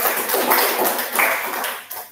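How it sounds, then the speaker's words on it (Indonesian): Students in a sixth-grade elementary classroom clap together for a group, a dense, steady patter of hands that fills the room and fades slightly toward the end. "tepuk tangan untuk Al"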